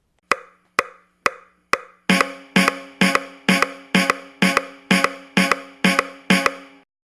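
Drum kit playing a steady groove placed just ahead of the beat: four sparse hits, then a regular pattern of about ten loud, full strikes, each with a sharp attack and ringing decay, clear and close with no talk.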